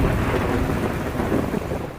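Thunder rolls through a lightning storm in Ocean County, New Jersey, loud and continuous, with dense rumbling and a rain-like wash, picked up by a police dashcam.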